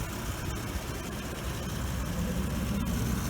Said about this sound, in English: You just hear the injectors